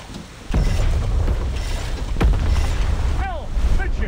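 Naval combat in War Thunder Mobile: a torpedo launch and distant explosion rumble in deep booming bursts at about half a second and again near two seconds, with sweeping whistling tones and battle noise layered throughout.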